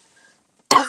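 A single loud, close cough from a woman bursts out after a near-silent pause, harsh and breathy, with no talk around it.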